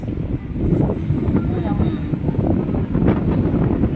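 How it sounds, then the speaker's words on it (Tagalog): Strong wind buffets the microphone with a steady, loud roar, with voices faintly audible beneath the gusts. "Ang lakas ng hangin."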